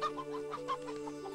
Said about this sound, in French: Et voilà une poule pour les œufs frais.